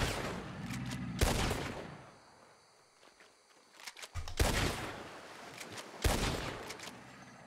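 Sharp, loud rifle shots in Red Dead Redemption 2 crack out while hunting an animal. Three blasts ring out across several seconds, each with a trailing echo, and quiet stretches fall between them.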